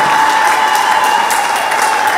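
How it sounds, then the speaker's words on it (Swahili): A church congregation at a Lutheran service applauds steadily and loudly, a dense, continuous wash of many hands clapping together with no pause. "Tumpigie Bwana makofi mengi kwa ajili ya huyu mtumishi wa Bwana."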